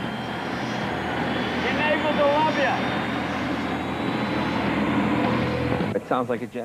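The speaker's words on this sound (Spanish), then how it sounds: "Suena como un motor a reacción, exactamente igual a lo que oímos en un aeropuerto." Jay Leno's Y2K turbine superbike gives off a loud, steady jet-engine roar, a continuous whine and rush that holds for several seconds before dropping off near the end as a voice speaks.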